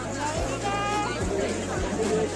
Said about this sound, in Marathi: सो फायनली दर्शन झाले आणि खूप जास्त गर्दी आहे